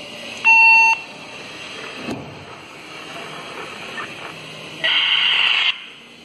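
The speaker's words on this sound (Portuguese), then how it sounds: "Tá vendo o bip de retorno da repetidora?" A Motorola EP 450 handheld radio sounds a short steady return beep from a repeater on channel 1, followed later by a second longer tone burst, indoors in a room.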